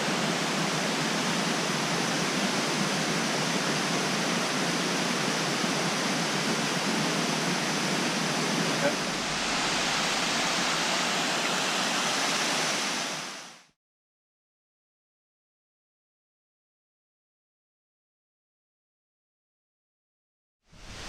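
An overflowing river pours down rocks at a waterfall, a loud steady broadband roar that holds unbroken for about thirteen seconds before cutting out to silence.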